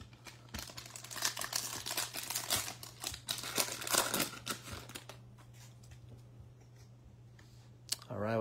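Foil wrapper of a 2021 football trading card pack being torn open and crinkled, busy rustling and crackling up close with clicks, then a quieter stretch and a brief voice at the end.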